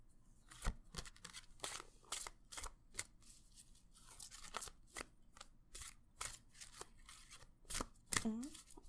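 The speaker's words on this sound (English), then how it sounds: "I'm going to shuffle the deck." A deck of angel cards is shuffled close up in a quiet ASMR card reading, giving a steady run of soft riffling and snapping bursts, with a voice speaking softly near the end.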